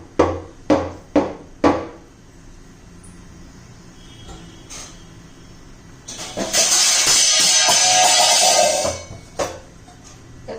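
Four sharp taps in quick succession as a tray of rava dhokla batter is tapped on a hard surface, followed by a longer burst of hissy, rushing noise and a few faint knocks.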